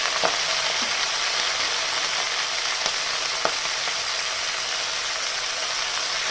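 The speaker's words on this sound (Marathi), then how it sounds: "धुवून घेतलेली मेथी आपल्याला कढईमध्ये टाकून द्यायची" Fenugreek leaves frying in oil give a steady, soft sizzling hiss, with a few faint clicks from the pan and no one speaking.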